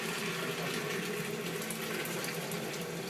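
Hot water, steaming on a stove while lemonade is made, pours steadily into a pot or container, a continuous close rushing gush with no breaks and no talk.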